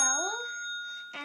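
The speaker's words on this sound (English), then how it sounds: "this little ball goes down the inclined plane, down here," A ball rolling down an inclined plane strikes a small bell in a Rube Goldberg machine, producing one bright, clear ding that rings on and sustains closely, followed by a faint knock.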